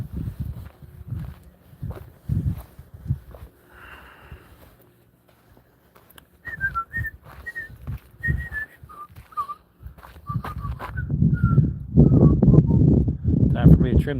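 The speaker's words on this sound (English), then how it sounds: "They do like a little whistle thing when they go to do their hee-haw" A donkey gives a series of short, high whistle-like squeals instead of its full bray, repeated several times at moderate distance, with footsteps, rustling and some talking around it.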